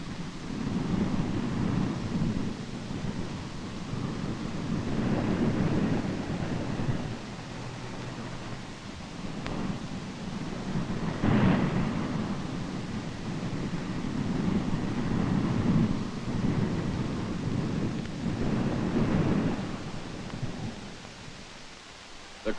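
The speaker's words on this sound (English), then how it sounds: "the seas get higher and higher, and the storm becomes a veritable blizzard" A winter storm on the northern Sea of Japan, near a carrier at sea in blizzard conditions, roars continuously with surging rumbles of wind and heavy waves, loud and unbroken throughout.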